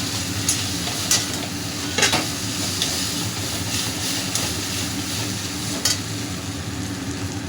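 Potatoes mixed with spices for Bengali egg devil are stirred in a hot pan, giving a dense, continuous sizzle with occasional scraping knocks of the spatula, near and steady, no one speaking.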